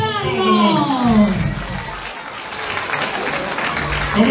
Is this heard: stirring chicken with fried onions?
no